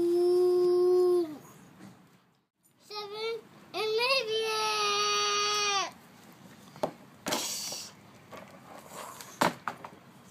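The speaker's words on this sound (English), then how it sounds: "Dog's attacking him." A dog gives long drawn-out howls and high whimpering cries in separate bursts with short pauses between them, followed by scattered thumps and scuffling noises.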